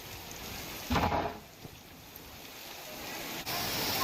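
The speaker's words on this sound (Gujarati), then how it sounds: "આકરા તાપ બાદ શરૂ થયો છે એકાએક વરસાદ" Heavy rain in Gujarat's Saurashtra region hisses down in a constant wash, with a brief louder burst early on and a quieter background throughout.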